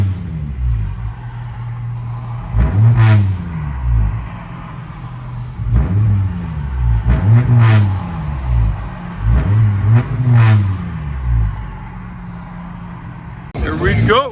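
A 1994 Volvo 850 Turbo with a straight-pipe exhaust and a tractor flap revs hard several times, heard from inside the car with a window down. Each loud rising rev falls back to a rumbling idle, and voices talk between them.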